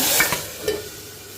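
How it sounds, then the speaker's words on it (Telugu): Urad dal and garlic sizzle as a tempering in hot oil, a short, soft, hissing fry with a few quick stirring taps that fades toward the end. "ఇదిగోండి తాలింపు శుభ్రంగా వేసేద్దామండి"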